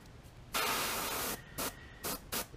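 An airbrush sprays paint onto a topwater Spook fishing lure in short bursts: one long hissing spray, then three or four quick puffs, close and clear against a quiet room.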